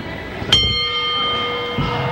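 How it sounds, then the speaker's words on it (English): A single ringing strike of the ring bell at a pro wrestling match, a sharp clang that leaves a sustained metallic tone over the constant murmur of the crowd. "Well, there's the bell,"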